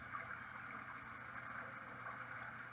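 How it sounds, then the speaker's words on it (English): A river with running water in a nature soundscape: a faint, continuous rushing flow with no other distinct events. "I also hear a river with water running."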